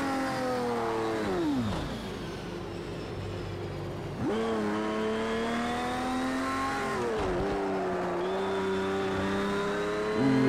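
A Porsche race car engine in the racing game Project CARS 2, from the Spirit of Le Mans content. It revs up hard and drops at gear changes about three times, then climbs again, loud and continuous with no talk.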